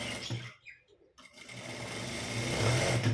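A sewing machine runs close by in a steady, loud mechanical whir, stitching a blouse shoulder strap after a short pause near the start.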